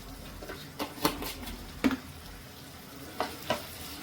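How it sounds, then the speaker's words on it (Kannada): Tomatoes with turmeric stirred and cooking in a pan: a soft sizzle runs throughout, with several sharp spoon scrapes and clinks against the pan at irregular intervals, close and moderately loud. "ಅದು ಕೂಡ ಈ ಥರ ಮಿಕ್ಸ್ ಮಾಡ್ಕೊಳ್ಳೋಣ. ಈಗ 1-2 ನಿಮಿಷ ಟೊಮೊಟೊ ಬೇಯಿಸ್ಕೊಳ್ಳೋಣ."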